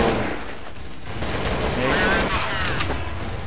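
Rapid gunfire from Counter-Strike Source fills a public match, with continuous overlapping shots and bursts, loud and close throughout.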